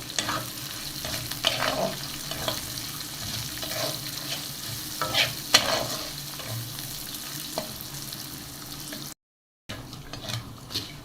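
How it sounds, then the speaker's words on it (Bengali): Onion and garlic fry until brown for a spiced lentil dish, a steady close sizzle with occasional stirring scrapes and clinks from the pan. "পেঁয়াজ রসুন কলা দিচ্ছি এখন এগুলো সবই ব্রাউন করে ভেজে নেব"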